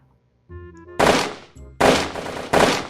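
Loud automatic gunfire in a VR game, Hand Simulator: a brief tonal game sound, then three harsh, dense bursts of rapid shots in quick succession, close and alone.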